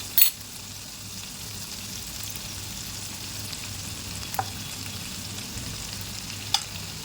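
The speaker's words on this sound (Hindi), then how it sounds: "इसको फ्राई कर लेंगे गार्लिक और चिली को" Garlic and chili frying in a pan, a steady soft sizzle with two brief clinks of a utensil against the pan, no talking.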